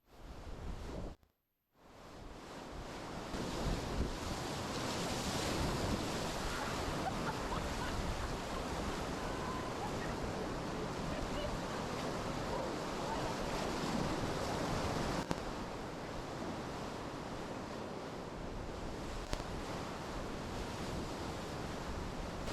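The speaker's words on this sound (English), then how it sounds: "Hancock is another big, fun wave train with really no hazards" Rushing whitewater of a big wave train rapid on the Middle Fork Salmon River, a loud, continuous roar of churning water and surf, with wind buffeting the microphone throughout.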